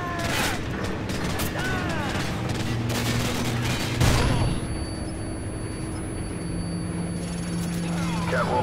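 Gunfire bursts and mechanical clatter in the Call of Duty 4 video game, with a loud flashbang-style blast midway and a ringing tone afterward, layered over background game sounds.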